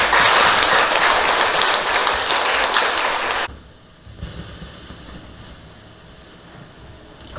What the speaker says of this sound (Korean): 우리 참어머님의 성수무각을 위해서 박수 한번 크게 보내주십시오.